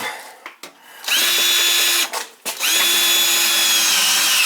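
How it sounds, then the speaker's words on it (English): A power drill drives screws into a 4-inch smoke pipe on a 40-gallon gas water heater, with two loud, sustained whirring bursts separated by a brief pause and small clicks before them. "Each smoke pipe should have three screws in it."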